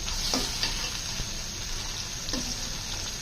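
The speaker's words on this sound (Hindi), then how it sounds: "अब 2 मिनट हमने हाई फ्लेम पे इसको मसाले के साथ भून लेना" Chana pulao fries with masala in a pan over a high flame, giving a steady close sizzle with occasional stirring scrapes and clicks.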